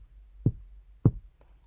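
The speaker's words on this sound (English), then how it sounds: "She gently knocks." A gentle knock on a door, two soft separate raps about half a second apart, close and quiet against a near-silent room.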